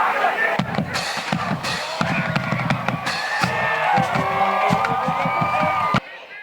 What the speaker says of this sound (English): A nice little feel of some Friday football crowd